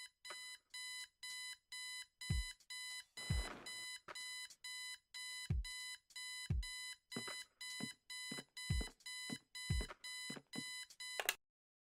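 Alarm clock ringing in the video game Kathy Rain, a loud electronic beeping in repeated short bursts with brief gaps, steady and insistent, alone with no talk.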